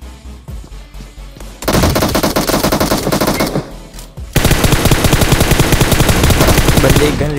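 Automatic gunfire from the Battlegrounds Mobile India video game rattles out in rapid, loud bursts: a few scattered shots, then two long sustained volleys separated by a short pause.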